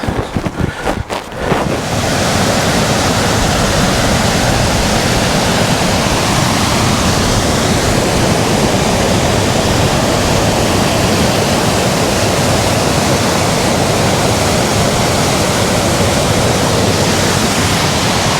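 Sour Milk Gill, a mountain stream near Buttermere, rushes loudly and continuously as a dense, close roar of falling water, with a few brief bumps and handling noises in the first seconds.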